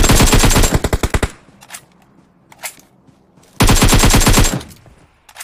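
Automatic gunfire rings out in the video game PUBG, played on the Livik map. Two loud, close bursts of rapid shots are separated by a quieter stretch that holds a few faint distant reports.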